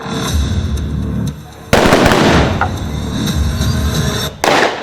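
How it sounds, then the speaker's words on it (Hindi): Simulated grenade blasts during a police mock anti-terror drill on a bus, two sudden loud sharp bangs with a noisy rumble between them, over steady outdoor background noise. "डिसेप्शन टीम ने आतंकियों को भ्रमित करने के लिए सिमुलेटेड ग्रेनेड चलाया और एकाएक विस्फोट जैसी आवाज हुई"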